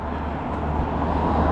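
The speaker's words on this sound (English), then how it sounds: "It's alright, this traffic's oncoming." Oncoming road traffic rushes past on a roadside, a steady broad roar of cars and heavier vehicles, fairly close and loud without a break.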